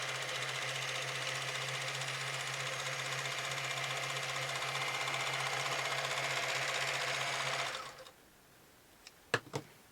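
A Kenmore 158 sewing machine stitches in a fast, even mechanical chatter that stays close and steady for about eight seconds, then stops, followed by a few faint clicks.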